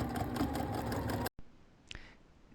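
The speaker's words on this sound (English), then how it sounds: "I am stitching in the ditch, which means sewing on the line where all of the blocks come together, where the seam is." Sewing machine stitching in the ditch along block seams of a quilted shirt, a fast steady mechanical whir for over a second, then it stops abruptly, leaving quiet room tone with a brief click.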